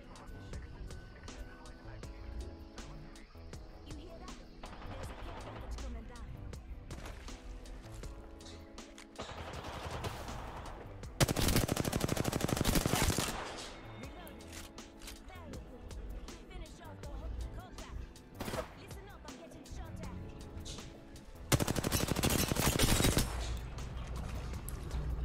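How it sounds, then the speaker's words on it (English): Automatic gunfire from the video game Apex Legends comes in two loud bursts of rapid shots over a busy bed of game sounds. "Hear them shooting."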